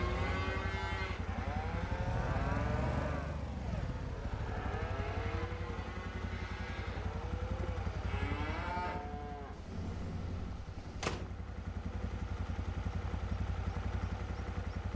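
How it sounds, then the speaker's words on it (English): A crowd of cattle moo repeatedly in a snowy barn in Farming Simulator 25, with long overlapping lowing calls rising and falling over a steady low rumble, loud and close, followed by a sharp clatter. "That's a lot of cows in that."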